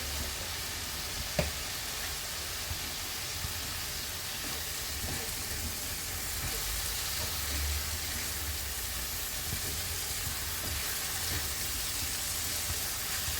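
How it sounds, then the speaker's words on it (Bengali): Spice paste for navaratna korma frying in oil in a pan, a constant bright sizzle and hiss with occasional faint stirring clicks, close and steady throughout. "দেখতে পাচ্ছ মশলাটা বেশ সুন্দরভাবে কষে আসছে, তেল ছাড়ছে গায়ের থেকে"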